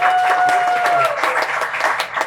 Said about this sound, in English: So we can make a round of applause for that